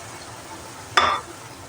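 Hot water poured into a dry watermelon-rind vegetable curry in a pan gives one short splashing sizzle that bursts up loudly and fades within a quarter second, with quiet kitchen noise around it.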